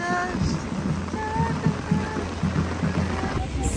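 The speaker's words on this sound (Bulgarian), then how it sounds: "Топъл дъжд." Warm, heavy rain pours down steadily as a dense, even hiss, with faint voices murmuring underneath throughout.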